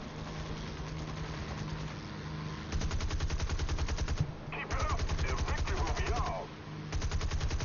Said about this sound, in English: you flew right into my barrage of bullets there